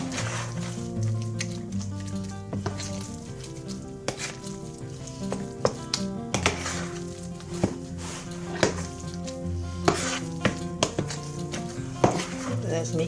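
Soup and sour cream being stirred together for a chicken casserole, with wet squishing and scraping strokes against the bowl at an uneven rhythm, close and fairly loud, alongside background music and occasional talk.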